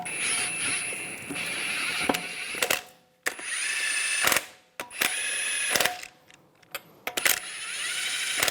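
A power wrench whirs in short, loud bursts on the wheel lug nuts of a 2007-2014 Cadillac Escalade, with sharp clicks and metallic taps between bursts, close and alone in a garage.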